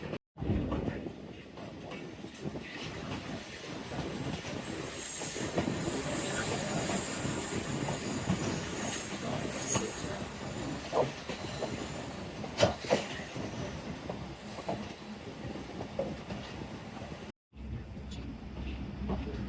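A Pakpattan to Lahore passenger train, the Bhully Shah Passenger, rolls along in a steady, dense rumble heard from inside a carriage, with faint wheel clatter and occasional squeals, and voices murmur in the background.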